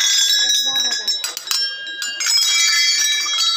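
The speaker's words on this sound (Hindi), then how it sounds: "यहाँ की सिस्टम जो घंटियाँ लगाने की वो चालू है" Metal temple bells ring loudly and continuously at the Baleshwar temple group in Uttarakhand, overlapping bright clangs with long sustained tones, while a voice talks beneath them.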